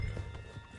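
Horse hooves clip-clop in a Red Dead video game, a quick run of close, muffled thuds over a steady low background hum.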